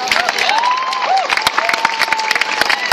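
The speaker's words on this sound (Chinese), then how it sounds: "我们是不是给那些同学一个掌声？" A crowd applauding students at an outdoor street protest, loud dense clapping that runs throughout with scattered voices and a few shouts mixed in.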